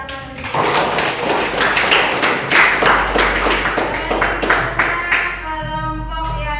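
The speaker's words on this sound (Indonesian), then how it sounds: "Oke, kasih tepuk tangan dulu." A classroom group claps together in a brisk, fairly loud burst of many hands, sustained for several seconds before fading into a low hum at the end.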